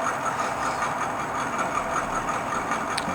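Small WPL C54 RC car, an LC80-style scale model, running on a freshly fitted motor: a steady, continuous electric whine with a mechanical buzz and rattle, held at an even level throughout, close by, with no voices.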